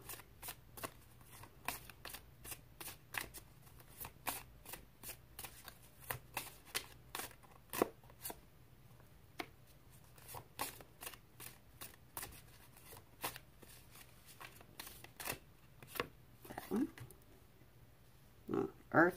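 Cards being shuffled for a tarot reading, a long run of crisp riffling bursts and flicks repeating irregularly throughout, close and fairly quiet over a faint steady hum.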